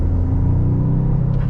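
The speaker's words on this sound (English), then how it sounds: "that 3-cylinder sound is just something else, man" Toyota GR Corolla three-cylinder engine under acceleration, heard from inside the hot hatch as a steady, loud low rumble with a gritty buzzing tone that holds evenly throughout the short stretch.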